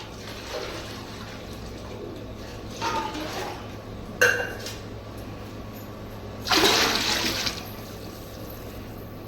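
Rice poured into a pot of boiling water for ghee rice pulao, with several bursts of rushing, splashing pour and a sharp metallic clink over a steady low kitchen hum.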